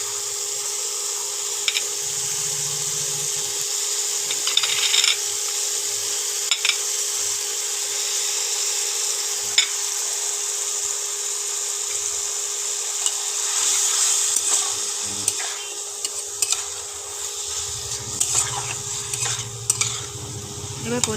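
Chicken sizzles in a pan with grated tomato, ginger, onion and garlic plus chopped chili for a Bengali-style dish, with a constant frying hiss broken by intermittent scraping stirs close by.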